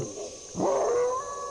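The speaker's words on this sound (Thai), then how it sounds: "เสียงอะไร เสียงหมาหอนหรือเสียงอะไรท่านผู้ชม" In a humid tropical rainforest, a dog lets out one rising, drawn-out howl that swells loudly, then tapers into a thin, wavering tone over a steady high insect drone.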